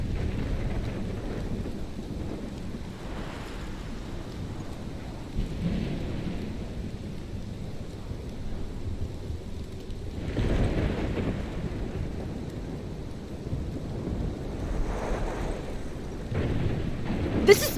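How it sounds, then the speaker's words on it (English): Thunderstorm in the video game Life is Strange: heavy rain pours steadily while gusts of wind buffet the scene and deep thunder rumbles swell repeatedly, loud and enveloping throughout. "This is my storm."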